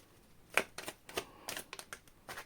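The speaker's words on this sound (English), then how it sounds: "Last shuffle." A tarot deck being shuffled gives quiet riffling and soft card flutters in a few uneven bursts, close but faint in a still room.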